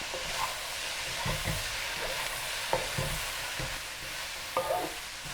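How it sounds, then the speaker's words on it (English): Poha being stirred through a hot pan of spices over high heat, a steady broadband sizzle with intermittent scraping stirs every second or so, close and fairly loud with no talking. "So poha goes in. Good mix, and this is still on high heat."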